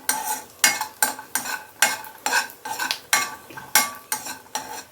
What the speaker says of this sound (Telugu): ఇప్పుడు జీడిపప్పు వేయాలి ఇవి ఎక్కువసేపు అవసరం లేదు తొందరగా వేగిపోతాయి